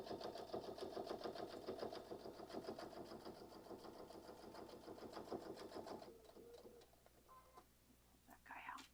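Sewing machine stitching along a fabric panel for a quick holiday gift, a steady rapid needle rhythm running loud for about six seconds before stopping, leaving faint clicks and handling noise.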